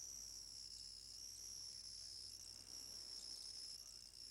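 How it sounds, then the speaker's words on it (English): A chatterbox cricket on Mediterranean sand chirps at night, a steady continuous high trill that is faint and alone with no other sounds. "the chatterbox cricket can be found on the sand along most of the Mediterranean"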